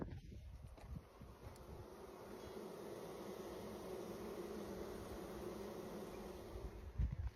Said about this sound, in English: look at the size of this beehive